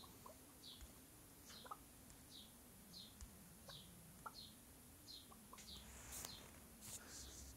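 Several chickens in the game Stardew Valley cluck softly and steadily in a repeating rhythm over a low background hum, with a few sharper clicks and taps near the end.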